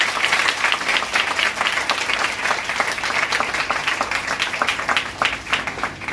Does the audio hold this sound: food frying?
no